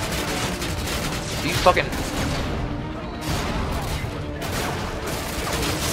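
Dense, continuous gunfire from Call of Duty Modern Warfare 2 rattles on for the whole stretch, with sustained bursts and a louder crack partway through, while a player talks over it.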